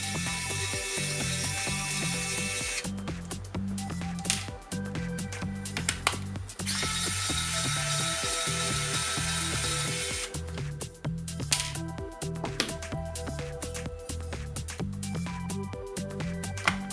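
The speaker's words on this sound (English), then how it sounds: "simply undo the screws." Screws are undone on an ASUS ROG Gladius III wireless gaming mouse, a steady electric screwdriver whir interrupted by clicks and small knocks, close and continuous over background music.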